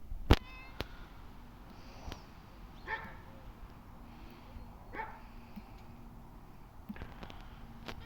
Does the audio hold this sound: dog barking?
yes